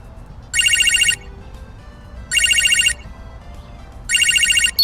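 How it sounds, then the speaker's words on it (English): Phone ringing in the video game Manamon 2, three loud electronic ring bursts of about half a second each, evenly spaced and standing clear above a low background hum. "Phone is ringing."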